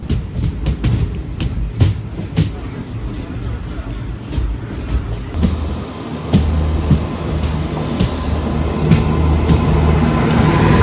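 Raptisagar Express passing on a parallel track beside a halted Chennai–Alappuzha superfast train, a steady rumbling rush with periodic rail clicks heard from inside the coach, growing slightly louder, with faint background chatter.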